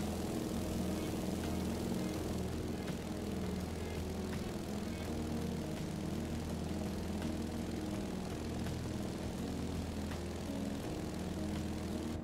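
Propeller engine of a Gee Bee racing airplane in a flight simulator game, a steady loud droning hum with a constant low rumble throughout, no talking.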